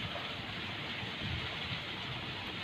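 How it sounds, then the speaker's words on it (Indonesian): Steady rain falls over fish cages at a pond, a dense even hiss with no breaks, fairly soft and continuous with no voices. "Hujan lagi."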